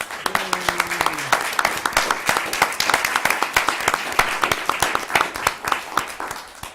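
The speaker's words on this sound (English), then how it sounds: "So let's everybody give a nice applause for the school and the teachers and the principal and all the students." Scattered applause at a school board meeting, a modest number of people clapping in uneven, distinct claps that stay close and continue after a brief voice at the start.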